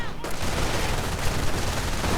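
Dense, continuous gunfire and explosive mortar bursts from a WWII real-time strategy game battle, with grenadiers and riflemen, loud and unbroken throughout after a brief quieter start.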